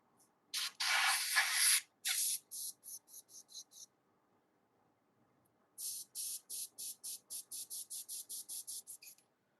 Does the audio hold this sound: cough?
no